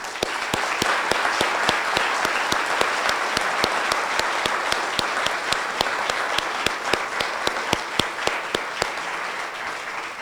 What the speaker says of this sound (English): perhaps give them a round of applause before we wrap this up